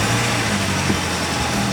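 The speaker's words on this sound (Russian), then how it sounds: "Машина заработала." A Toyota Camry engine running just after its starter was replaced, a steady close idle hum and rumble that stays even throughout, with no voices.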